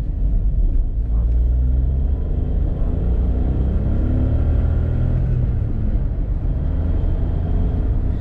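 A 2018 Volkswagen Up TSI accelerates in second gear, its engine a steady, rising rumble heard from inside the cabin, loud and continuous throughout.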